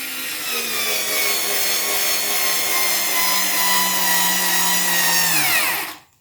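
A SKIL 4V cordless screwdriver drives a 1.5 inch drywall screw into wood, a steady whining motor hum that slowly drops in pitch as it bogs down, then stops abruptly.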